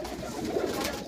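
Pigeons coo softly and continuously at Ustad Dasu's house, a low murmuring warble with scattered bird calls and faint background noise throughout.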